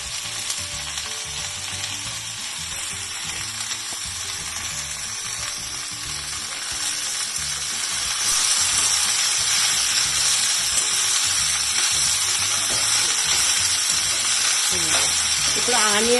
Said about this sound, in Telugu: ఇప్పుడు ఆనియన్, తోటకూర 2 కలిసి మనకి చక్కగా ఫ్రై అవుతుందండి